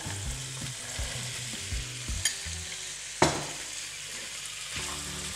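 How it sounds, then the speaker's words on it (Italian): Peas stirred into artichokes already cooking in a pot, giving a steady sizzle with repeated scraping stirs and a couple of sharp clinks from the spoon against the pot, no talking. "Adesso a questo punto aggiungiamo i piselli."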